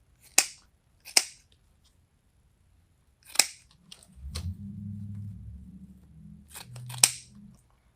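Scissors snip the ribbon tails on a leprechaun wreath's bow, several crisp, separate cuts spaced over a few seconds, close and alone, with a brief low rustle of handling in between.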